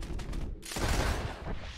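Rapid dual pistol gunfire in Deadeye mode in the Red Dead Redemption 2 video game, a dense loud burst of shots blurring into one roar, alone without talk.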